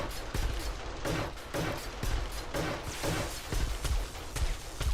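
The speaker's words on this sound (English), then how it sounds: "Now, those turrets are doing their job." Automated turrets firing in the survival game 7 Days to Die, a steady run of sharp repeated shots with scattered heavier impacts, moderately close and continuous throughout.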